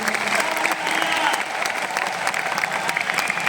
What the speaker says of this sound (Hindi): एक बार मैं चाहूँगा आप टीम के लिए ताली बजा सकते हैं